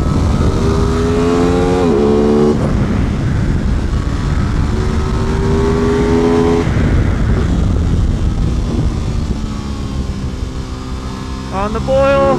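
An Aprilia RS660 sport bike on a race track, its engine climbing through the revs in rising sweeps with quick drops between gears, loud under constant wind roar, with a rider's voice heard at times.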